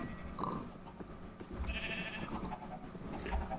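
Sheep in a video game bleating faintly in a few short calls over a low, busy background murmur.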